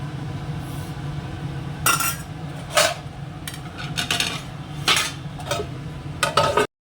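A metal cooking pan is covered with its lid in a home kitchen, producing several sharp metallic clanks and clinks spaced a second or so apart, close by and with no talking.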